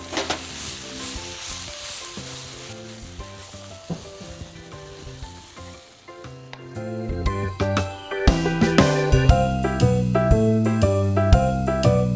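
Steady sizzling of fish frying with chestnuts, dried chillies and sesame oil in a hot pan, with louder bursts and scraping as it is tossed, under rhythmic music.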